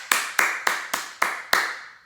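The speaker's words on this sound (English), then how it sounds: "then we're gonna clap loudly" Six loud, sharp hand claps in an even rhythm from a group at a children's Vacation Bible School lesson, each crisp and close with a short decay.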